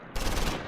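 A loud, continuous burst of medium machine gun fire from the World War II Battle of the Bulge game Close Combat 4, set at Esch-sur-Sûre, starting abruptly and rattling steadily at close range.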